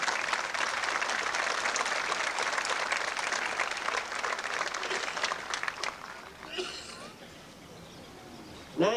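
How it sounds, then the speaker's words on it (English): A large audience at a 1999 spring university commencement at Southeastern Oklahoma State University claps steadily for several seconds, then the applause thins and fades out near the end, with a brief sound at the close. "let's give them a round of applause"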